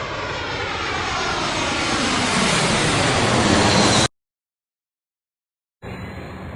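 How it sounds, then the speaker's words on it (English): A fixed-wing airplane's engine roars steadily and loudly for about four seconds, then cuts to silence before resuming briefly. "Planes can fly very fast."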